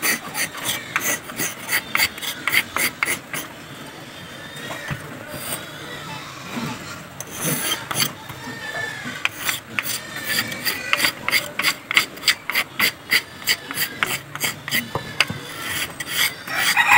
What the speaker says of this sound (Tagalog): Kuskusin na yun natin yung kahoy. Pakinisin natin mga kaibigan para maging dating na.